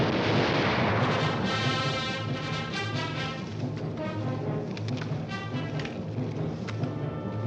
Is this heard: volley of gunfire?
yes